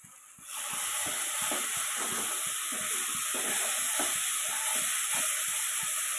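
Spice masala of turmeric, Kashmiri chilli powder and salt fries in hot oil for potol chingri, starting with a sudden hiss and then holding a steady sizzle with scattered stirring scrapes.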